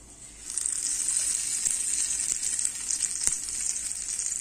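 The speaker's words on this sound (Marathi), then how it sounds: "आता हा तडका आपला झालेला आहे, गॅस बंद केला मी आणि हा तडका आपण या चटणीमध्ये घालूया" Hot tadka poured into chutney bursts into a sudden loud hiss that holds as a strong, steady sizzle, with a couple of faint clinks.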